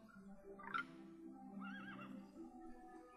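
Horse whinnying in the real-time strategy game Battle Realms, one short shrill neigh followed by a longer wavering whinny, faint and distant over a soft low hum.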